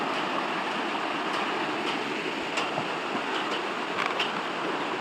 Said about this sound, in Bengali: এদিকে জল বয়ে যাচ্ছে।